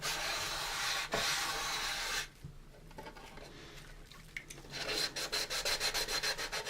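Coarse sandpaper rubbing the smooth, glossy plastic of an AMT U.S.S. Enterprise model kit 6676, close and dry, with steady scraping at first, a quieter patch, then quick rhythmic back-and-forth strokes at the end.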